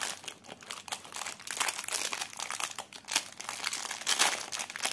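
A roll of adhesive ribbon tape is pulled out of a plastic bag, making steady, close crinkling and rustling across the whole stretch, with no talk.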